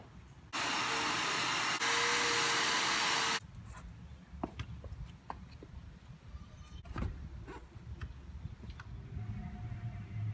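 A small 1.5 gallon vacuum cleaning out a car starts with a loud, steady motor whine for about three seconds, then gives way to quieter bumping, rustling and handling noises inside the vehicle.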